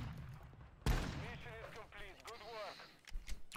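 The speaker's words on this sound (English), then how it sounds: "Over and under shotgun." An over-and-under shotgun fires in Modern Warfare 2, one sharp loud blast followed by rattling game clatter and a few smaller thuds, with a voice talking underneath.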